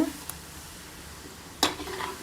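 Steady sizzling of bread pieces frying in hot oil for gulab jamun, with a couple of sharp clinks of a utensil against the pan.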